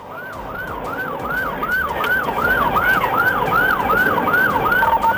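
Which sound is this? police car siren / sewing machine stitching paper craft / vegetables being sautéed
police car siren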